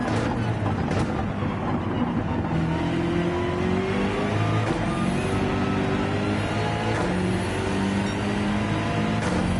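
A race car engine in Gran Turismo 7 on the Dragon Trail circuit, held at full throttle: a loud, continuous roar close to the listener, its pitch sweeping upward through the gears with no break.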